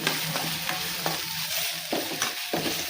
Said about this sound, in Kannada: ಈ ಉಳ್ಳಾಗಡ್ಡಿನ ಸ್ವಲ್ಪ ಫ್ರೈ ಮಾಡ್ತೀನಿ ರೀ.